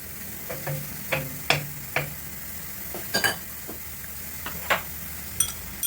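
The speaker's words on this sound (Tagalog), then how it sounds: "ilagay natin yung garlic guys" Garlic sizzles softly in hot oil in a pan while being stirred for pancit canton guisado, with a quiet frying hiss broken by sharp scraping and tapping of the spoon.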